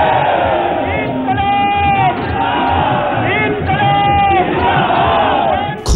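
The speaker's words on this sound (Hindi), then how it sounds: "खुली जीप और भारी भीड़ के साथ बनारस की सड़कों पर अरविंद केजरीवाल।" A large, dense crowd roars and chants continuously on the streets of Varanasi around Arvind Kejriwal's open jeep, with rising cheers and shouts layered over a constant loud rumble of voices.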